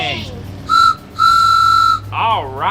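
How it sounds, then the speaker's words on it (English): A toy train whistle sounds twice, a short blast followed by a longer sustained one, loud and close, with a voice beginning to speak right after the second blow. "give your little train whistle a couple blows"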